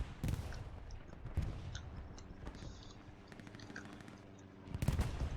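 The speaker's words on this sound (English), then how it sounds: "now we got artillery starting to land shells on the Panther" Artillery shells landing around a Panther tank in the video game Hell Let Loose, with a loud blast at the start and another near the end, separated by scattered crackling impacts and rumbling at mid distance.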